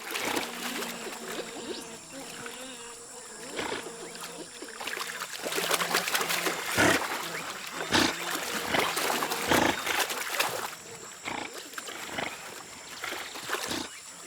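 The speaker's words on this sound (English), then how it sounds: "Not easy to vanish with noisy giant river otters watching." Shrill, chattering calls of giant river otters ring out in bursts over a steady noisy jungle background, with several sharp, loud cries clustered in the middle.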